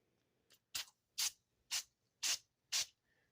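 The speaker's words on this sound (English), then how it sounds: "And you want to just spray a good amount." Electrical contact cleaner sprays into the disc tray of an Xbox 360 console in six short, evenly spaced hissing bursts, close and crisp against near silence.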